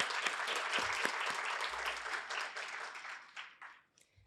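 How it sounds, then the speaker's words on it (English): An audience at a rights event in Windhoek breaks into a round of applause, a dense wash of clapping that holds steady before thinning out and fading over the final second. "Can we please give her a round of applause?"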